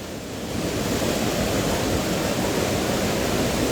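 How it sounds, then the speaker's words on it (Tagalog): A rain-swollen river overflowing at a blocked bridge in Ambuklao, Barangay Ibayo, rushes loudly and continuously, a dense broadband roar that swells in over the first half second and then holds steady. "Apaw na po yung ilog dito sa may tulay."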